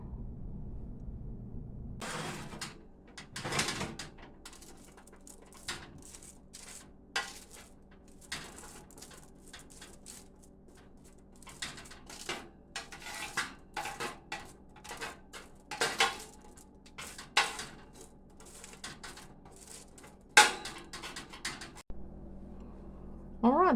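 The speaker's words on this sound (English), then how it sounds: "So let me get these in the oven." Metal baking tray of homemade snacks handled and slid into an oven, a quiet room with repeated clanks, rattles and clinks of metal and dishes, plus a door-like thud near the end.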